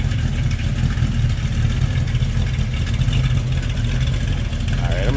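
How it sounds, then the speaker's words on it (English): A 427 V8 under the hood of a 1973 Chevrolet Camaro idles with a steady, low rumble heard from behind the car, constant and fairly loud throughout. "a rumble coming out of that 427 underneath the hood"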